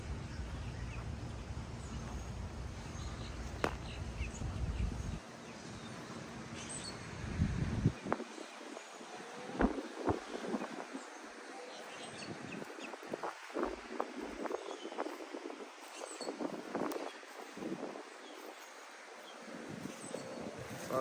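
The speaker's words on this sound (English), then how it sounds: "you'll be hearing a lot of wind. It's very windy and beautiful, trust me." Strong wind buffets the microphone at a waterfall, a loud, rough rumble for the first few seconds that then eases into gusty, uneven bursts over the steady hiss of falling water.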